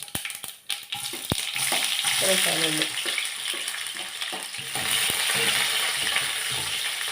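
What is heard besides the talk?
sautéing onion, ginger and garlic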